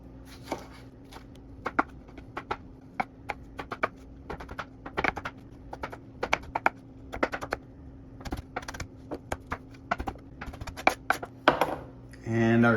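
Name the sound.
knife dicing a tomato into small pieces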